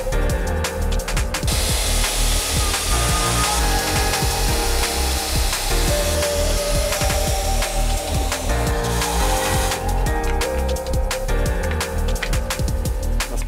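Steady, continuous hand-sawing through a piece of wood clamped in a bench vise, with close, loud, rasping strokes and no talking.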